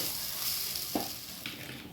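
Mashed potatoes being mixed into chicken in a pan, heard as a continuous sizzle with a couple of soft scraping stir strokes, close and without talk.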